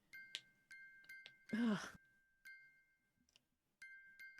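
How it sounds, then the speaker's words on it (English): A music box chimes in The Great Ace Attorney: Adventures, sounding short, bright, tinkling tones repeated at intervals, with a brief low vocal groan or sigh midway. "the sound emanating from this music box is not supposed to be music"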